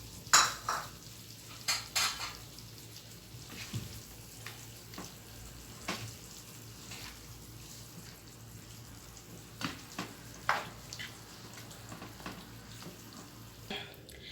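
Chicken tawa boti being stirred in a pan, with scattered clinks and scrapes of a utensil against metal over a faint low sizzle, fairly quiet and close.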